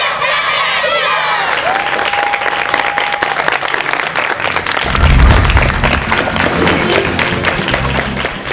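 Children in Masaya, Nicaragua shout at full voice for a television show while a crowd cheers and claps, a loud, dense and continuous roar from start to finish.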